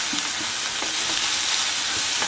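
Dried shrimp frying and being stirred in a pan on a low flame, a loud, steady crackling sizzle close up, with soft scraping knocks of stirring scattered through.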